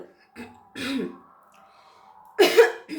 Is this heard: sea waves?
no